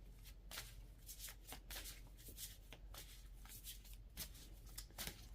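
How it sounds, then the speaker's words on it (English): Affirmation cards being shuffled by hand, a rapid run of crisp riffling and slapping bursts in an irregular rhythm, close and quiet, with no voices. "as I was shuffling the my affirmation cards here"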